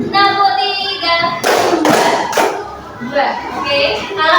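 Children clap in a classroom clapping game, bursts of several quick claps under a voice giving counts, with talk resuming between the rounds.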